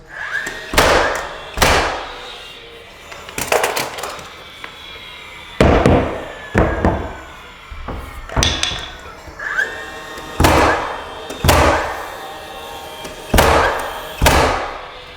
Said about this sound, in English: all I've got to do then is grab my nailer, and I like to start on the hinge side